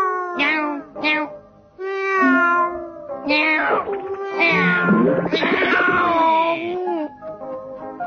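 A cat meows repeatedly and close by, a run of drawn-out, wavering cries that rise and fall, some stretching into long, whining calls.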